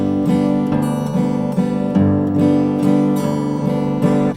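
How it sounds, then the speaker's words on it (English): Steel-string acoustic guitar in open G tuning strums a Spanish Fandango pattern in a steady three-beat rhythm, full and close, with no talking. "You could strum it if you wanted."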